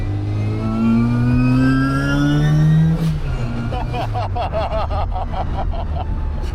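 A modified, turbocharged classic Mini with a straight-cut gearbox and cross-pin diff revs up with a loud rising gear whine, then drops into rapid chattering turbo and engine noises while people talk over it.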